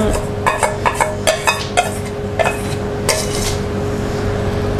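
Chocolate and praline cake batter mixed with melted chocolate in a bowl, heard as a close run of quick, rhythmic clinks and scrapes of a utensil against the bowl, easing into a softer, steady stir.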